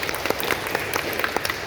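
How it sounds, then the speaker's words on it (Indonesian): An audience at a seminar claps in a brief, dense burst of applause, with many hands striking together at a moderate, even level. "Kita kasih aplaus sekali lagi ya."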